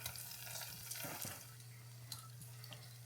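Sugar-dusted churro-like treats fry in hot oil, giving a soft, quiet sizzle with occasional light stirring and clinks, close by and without talk.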